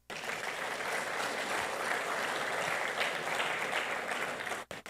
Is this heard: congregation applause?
yes